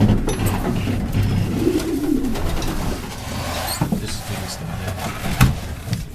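Racing pigeons coo softly inside a loft, several low burbling calls over a steady room hum, with faint knocks and shuffling nearby.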